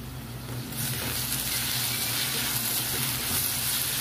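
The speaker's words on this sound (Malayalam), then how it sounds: "സവാളയും തക്കാളിയും എല്ലാം നല്ലതുപോലെ വഴന്ന് കിട്ടണം" Onion and tomato sautéing in a pan for a fishless fish-style curry, a steady broad sizzling hiss that swells in after a quieter first moment and holds evenly.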